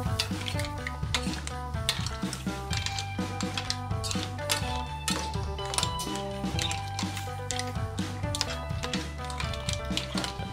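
Tomato paste is stirred into a sizzling clam and scallop sauce in a pan on a Vulcan Endurance restaurant range, with steady frying hiss, metal clinks and scraping utensil taps close by, and no talk.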